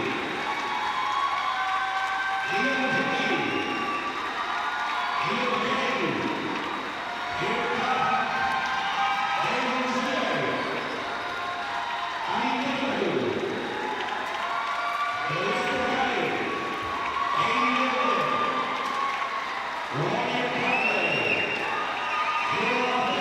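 DCU Mercy fans cheer and clap for their girls' team at an under-18 women's basketball cup final, a dense crowd roar with rhythmic applause bursts and whoops, sustained and fairly close.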